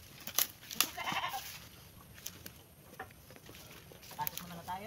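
Goats bleat at feeding time in a farm pen, a few short calls near the start and scattered fainter ones later over background rustling and a little low voice.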